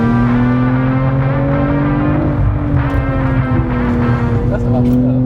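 A BMW M240i xDrive coupe (G42) accelerates in sport mode, its engine drone steady and loud with rising and shifting tones throughout, heard from close by with no talk over it.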